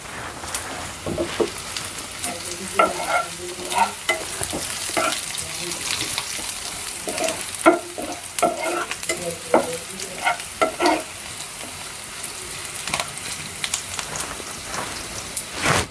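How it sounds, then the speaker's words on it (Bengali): Lentils fry and sizzle in hot oil with panch phoron, cumin, onion and garlic, crackling densely like rain while a utensil scrapes and stirs the pan in repeated bursts. "যে ডাল তেলে দেওয়া হচ্ছে আর পাঁচফোড়ন জিরা পেঁয়াজ রসুন দিয়ে একটু তেল"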